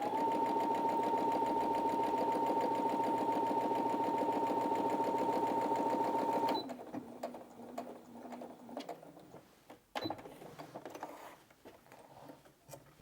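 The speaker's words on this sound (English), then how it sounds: "I'm going to go back to the standard straight stitch, and because it's thicker, I'm just going to increase the stitch length slightly." A Brother Innov-is A16 sewing machine runs a straight stitch through thick fabric in a fast, even mechanical rattle for several seconds, then stops, leaving quieter clicks and fabric handling.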